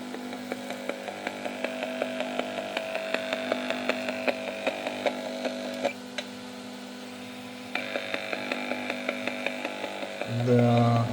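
A signal tracer testing a capacitor gives off a buzzy, rasping electronic drone with regular rhythmic pulses that shift in character midway, ending in a short burst of low noise.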